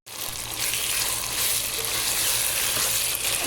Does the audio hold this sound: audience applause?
no